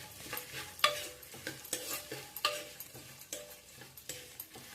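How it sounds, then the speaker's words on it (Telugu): Cashews, raisins and dried coconut sizzle gently in a pan while being stirred, with soft scraping and rhythmic stirring strokes, close and fairly quiet, no voices. "ద్రాక్ష, ఎండు కొబ్బరి అన్నీ వేసి ఫ్రై చేయాలి."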